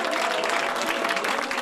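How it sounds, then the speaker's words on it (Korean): Applause and cheering fill the People Power Party's vote-count room on election night, a dense, steady wash of clapping with no pauses over its short span. "국민의힘 개표 상황실엔 모처럼 환호와 박수가 이어졌습니다"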